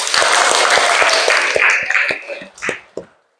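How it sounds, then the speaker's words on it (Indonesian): Schoolchildren in a classroom applaud together, a dense burst of clapping with sharp individual claps that thins out and ends in a few last scattered claps. "Ya, oke, tepuk tangan untuk kita."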